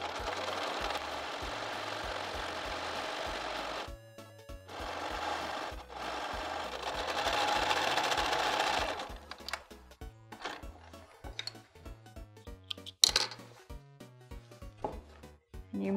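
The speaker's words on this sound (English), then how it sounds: "And then we'll stitch forward a little bit and backwards." A sewing machine stitches along the edge of jeans fabric, running in steady rapid bursts with brief pauses between them, then a livelier stretch of clicking and mechanical rattle near the end; close and fairly quiet, no talk.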